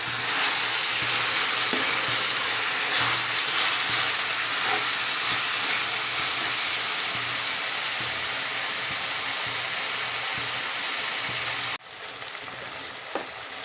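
Country chicken sizzles and hisses steadily in hot oil for a curry, a loud, dense, continuous frying sound that cuts off abruptly near the end, leaving quieter background with a faint click.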